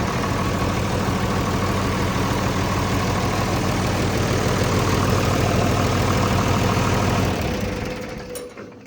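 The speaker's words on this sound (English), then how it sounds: "Good running tractor." A John Deere 4230 tractor idles with a steady, even diesel rumble close by, running unbroken before fading away near the end.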